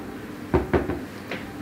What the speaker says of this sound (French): Et on mélange tous les ingrédients dans la casserole.